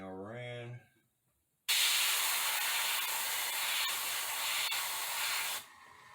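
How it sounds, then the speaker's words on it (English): An airbrush sprays light black paint onto an ice-planet painting in a long steady hiss lasting several seconds, close and loud, right after a brief spoken phrase. "spray a little light black in there, no problem"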